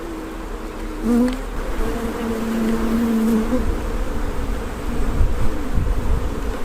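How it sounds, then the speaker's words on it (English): Dense, steady buzzing of many bees close by, with louder individual drones passing near the microphone. "God, look at the number of bees here."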